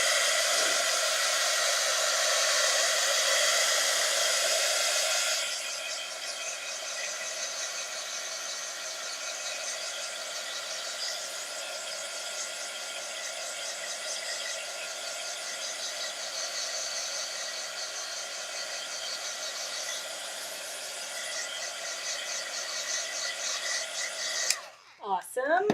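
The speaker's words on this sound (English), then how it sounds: "I am going to hit this with my heat gun, so I apologize if it gets loud." Heat gun drying a gel press print for Bible journaling: a loud, close blowing whir that drops to a lower, steady hum after a few seconds and runs continuously, with a brief clatter at the end.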